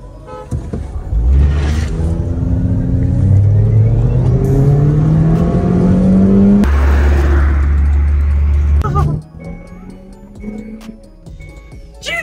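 A Honda Civic and a Hyundai Tucson accelerate hard in a drag race, the engine roar rising steadily in pitch before cutting off abruptly, followed by quieter mechanical noise and a brief horn-like tone, with no talking.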